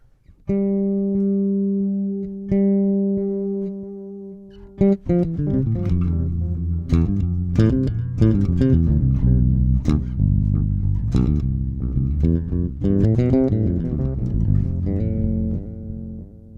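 A bass guitar through an MXR Carbon Copy Mini pedal plays sustained notes, then a busier line with a wavering, shimmering vibrato-like modulation, loud and close with no voices.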